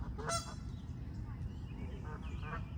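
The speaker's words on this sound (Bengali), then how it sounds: "ওই যে বেরোচ্ছে রাজহাঁসের বাচ্চাগুলো" Geese and goslings coming out of woodland honk in several nasal calls, one loud near the start and others scattered, over faint outdoor background.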